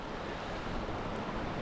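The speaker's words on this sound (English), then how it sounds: "little River Don, babbling away" The small River Don near Langsett in the Peak District, a shallow stream babbling steadily over stones, heard close as a continuous broadband wash with a little wind against the microphone.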